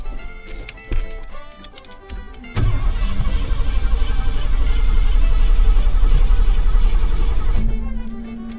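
A truck engine cranks over with its fuel pump relay hot-wired from the battery. A brief jingle of keys comes first, then a loud, steady cranking roar for about five seconds that settles into a low, even hum.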